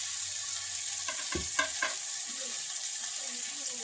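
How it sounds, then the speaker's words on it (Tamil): Chili and coriander powder stirred into a chicken curry in a pan, a steady soft frying hiss with a few quick scraping ladle strokes around the middle. "2 கரண்டி போட்டு நல்லா கிண்டிப்பாங்க ஃப்ரெண்ட்ஸ்"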